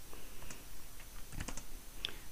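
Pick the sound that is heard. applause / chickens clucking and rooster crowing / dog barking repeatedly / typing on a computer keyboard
typing on a computer keyboard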